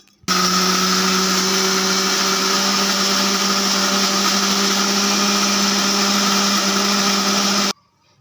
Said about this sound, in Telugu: నీళ్ళు వేసేసుకొని మిక్సీ పట్టేసుకోవడమే